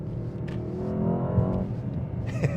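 A 2024 Mercedes S63 AMG in Sport Plus mode downshifting, its exhaust giving a few sharp pops and crackles over a steady engine drone heard from inside the car.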